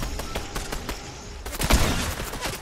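Rapid pistol fire in the video game Fortnite, a quick volley of sharp close shots cracking in succession, loud and punchy, with a heavier impact near the middle and no talk over it.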